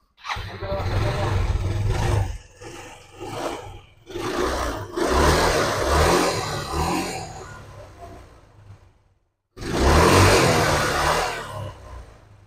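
A motorcycle engine with a smoky, oil-burning fault is started and revved in a workshop. It catches and runs loud and close, with repeated surging revs, a brief cut, then another strong rev, and a voice is heard along the way.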